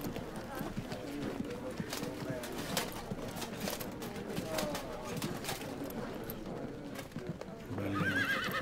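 Horses in the Field of Glory II strategy game whinny and clop their hooves amid a busy battle ambience with birds cooing, while someone talks over the sounds throughout.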